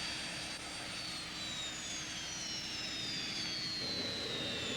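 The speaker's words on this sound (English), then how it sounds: "Next, the VIP jet arrives from Vancouver." A VIP jet aircraft arrives from Vancouver in the chilly Arctic evening, its engines whining in a steady, moderately distant roar with a slowly falling high-pitched tone.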